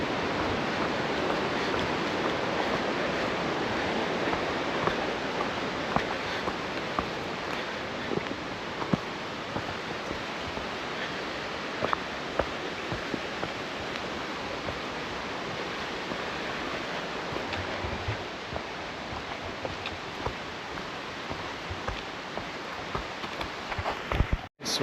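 Little River rushes beside a forest trail in Olympic National Park, a steady broadband roar of flowing water, close and continuous with no voices.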